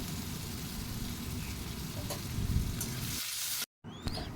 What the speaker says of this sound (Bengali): দিয়ে ভালো করে কড়াইতে কষাবো